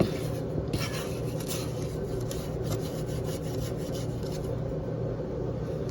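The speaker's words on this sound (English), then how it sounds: "And scrape down the sides before we continue to let it mix for about another minute." A spatula scrapes the sides of a mixing bowl of strawberry layer cake batter, a steady rubbing rasp running continuously without pause, close and moderately loud with no talking.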